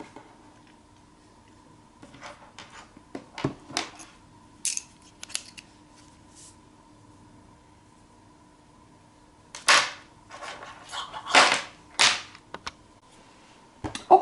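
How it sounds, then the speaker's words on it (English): Scissors cutting knitting yarn: a scattered series of sharp snips and clicks, then a tighter cluster of several louder close cuts, in a quiet room without talk. "I will cut the yarn here"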